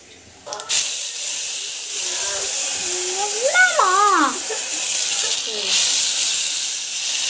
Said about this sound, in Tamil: அரைச்சி வச்ச மசாலா வந்து இதில் வந்து ஆட் பண்ணிக்கலாம்.